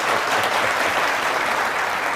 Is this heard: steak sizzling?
no